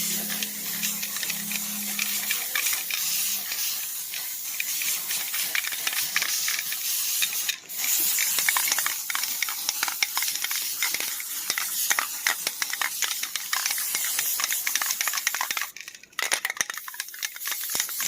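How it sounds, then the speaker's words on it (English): Steady hissing of a spray can painting a kitchen chair, running almost continuously, with brief pauses and a short break near the end, fairly close and loud. "So here I go spray painting the last chair."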